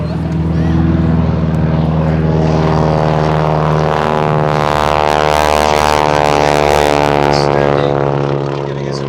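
A propeller-driven wing-walking display plane flies past at Sywell Airshow, its loud engine drone rising and swelling with shifting pitch as it nears and passes, while a commentator speaks over it.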